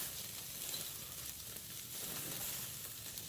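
Duck fat sizzles steadily in a pan while duck is fried, a continuous close hiss with faint crackles and no pauses.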